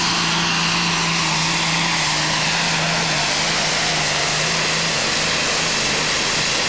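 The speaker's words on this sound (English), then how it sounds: "It's a John Deere 4455 with 3 turbos and 1800 horsepower, all of which he'll need to make a full pull today." A John Deere 4455 pulling tractor with three turbos and 1800 horsepower at a 1996 tractor pull in Bernay, France, its engine giving a loud steady roar with a sustained droning tone and turbo whine, no talk.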